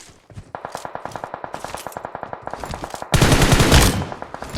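Rapid automatic gunfire from a shooter video game, a steady stream of close, loud shots that breaks into a denser, louder burst near the end as an enemy is knocked down and finished.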